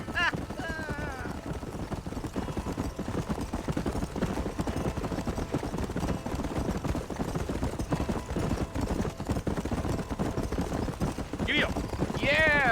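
Horse hooves clip-clop steadily through a Red Dead Redemption scene on PS4, mixed under continuous game music and ambience, with voices speaking over parts of it.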